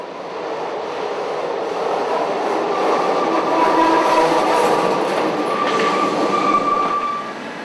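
A Paris Métro train sits in a station and then pulls away, its rumble swelling and fading over several seconds with wheel squeal and clattering rail noise, and no voices.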